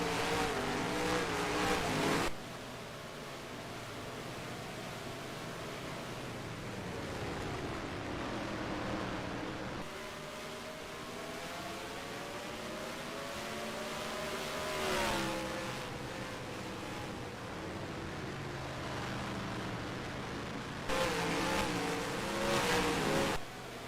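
Race cars circling Martinsville Speedway in NASCAR Racing 2003, engines droning and rising and falling in pitch as the field passes, with louder surges when cars sweep close.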